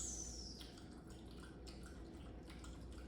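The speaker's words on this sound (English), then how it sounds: "you might hear my dog licking some water" A dog laps water from a bowl, giving faint, soft, irregular dripping and slurping sounds close by in a quiet room.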